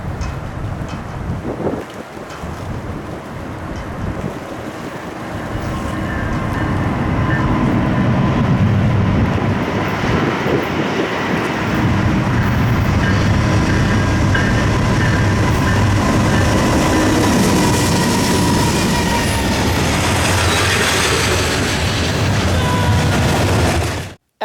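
A train rumbles past close by, a loud sustained roar with rhythmic clacking of wheels on rails and wind buffeting the microphone.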